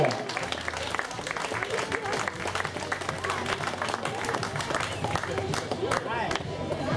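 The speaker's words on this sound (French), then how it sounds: "on peut applaudir, mesdames, messieurs, à la fois les coureurs du podium et les 43 participants à la ronde du parc" Outdoor crowd applause for the podium riders and participants at a park cycling race in Montélimar, a continuous dense patter of clapping with crowd murmur underneath, moderately loud throughout.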